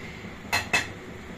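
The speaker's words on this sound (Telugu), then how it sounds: "స్టవ్ వెలిగించి కడాయి పెట్టేసి" A metal kadai is set down on a lit kitchen stove, producing two quick close clinks in a row over a faint steady background hum.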